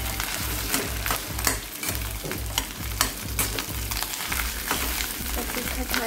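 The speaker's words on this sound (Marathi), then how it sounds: "या आता माशांची अंडी घालतोय।" Onion and fish eggs fry in a pan for a village-style fish egg bhurji, a close, steady sizzle broken by rhythmic scraping and stirring strokes of a spatula against the pan.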